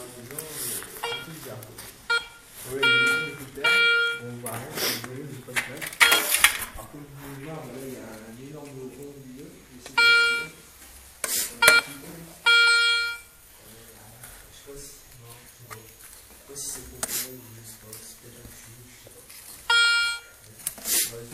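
A metal detector switched on outdoors near the stone foundation of an old washhouse gives repeated bursts of bright electronic beeping and tones, alternating with someone talking between the signals.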